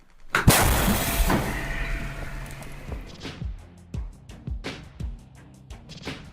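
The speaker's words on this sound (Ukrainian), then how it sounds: "Постріл!" One sharp, loud gunshot cracks out early, then a long echoing boom trails off, followed by scattered thuds and rustling nearby.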